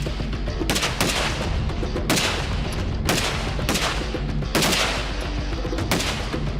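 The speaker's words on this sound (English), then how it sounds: "able to shoot the U.S. Arms AR-15 platform." Rapid bursts of AR-15 rifle fire from U.S. Arms Company rifles at a long-distance range, four loud sharp volleys with echoing decay and strings of quick shots in between.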